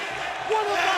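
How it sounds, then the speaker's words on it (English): Wrestling arena crowd at a Hardys Full Metal Mayhem match, a loud, dense roar of cheering that swells toward the end of a brief burst. "Listen to this crowd!"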